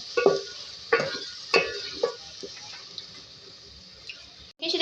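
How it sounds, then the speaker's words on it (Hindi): Aloo baingan masala is stirred in a pan with a little water, giving a few spoon scrapes and soft sizzling bursts over a low steady hiss, close by and moderately loud. "अब जो है इसके अंदर मैं ऐड करूँगी बिल्कुल थोड़ा सा वाटर और इसको हम भून लेंगे।"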